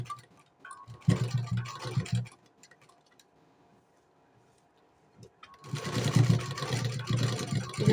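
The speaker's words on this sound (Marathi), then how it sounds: "डबल शिलाई करत आहे" A sewing machine runs in two short bursts, double stitching a blouse sleeve. Rapid mechanical whirring starts and stops with a quiet pause between runs, fairly close and moderately loud.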